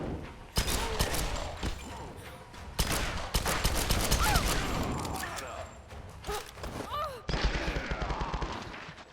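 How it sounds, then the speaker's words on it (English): Gunfire in the action-adventure game Tomb Raider (2013), with repeated sharp shots and rapid bursts cracking loudly across the scene, mixed with game effects and occasional voices. "Stop shooting me."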